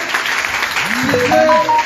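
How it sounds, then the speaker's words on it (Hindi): An audience claps at a Gayatri Shaktipeeth gathering, a short burst of applause mixed with tonal sounds and voices in the hall. "जोरदार तालियों द्वारा आप सब लोगों का स्वागत करें"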